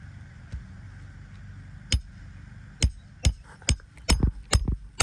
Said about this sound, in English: So he's gonna pick the shingle up a little bit. And try to attempt to drive that nail